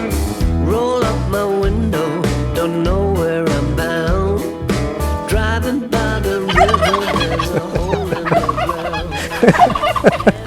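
A flock of turkeys gobbling loudly and repeatedly nearby, overlapping calls in rapid bursts with ducks and geese chattering toward the end, in Bodrum in spring.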